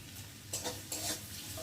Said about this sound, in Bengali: পেঁয়াজটাকে আগে ভালো করে ভেজে নেব